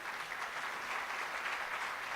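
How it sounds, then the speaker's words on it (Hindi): Audience clapping to welcome a guest at a Hindi spiritual gathering, a steady, dense roll of applause heard from some distance, even and unbroken for about two seconds. "आप इनके स्वागत में जोर से ताली मारे।"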